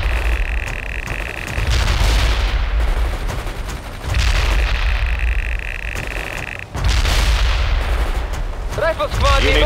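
Gunfire and artillery in the World in Conflict video game, heavy continuous rumbling barrages in loud sustained waves with rattling shots and a radio-style voice near the end.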